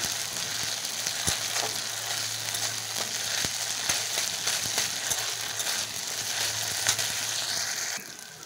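Ginger and garlic paste frying in a pan, a continuous bright sizzle broken by repeated sharp taps and scrapes of a spatula while stirring, close-up and without any voices.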